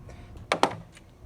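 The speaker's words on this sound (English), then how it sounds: "this other tab on the side is gonna click in" Two quick sharp plastic clicks close together as a car battery terminal cover tab clips into place, faint background hum, no talking.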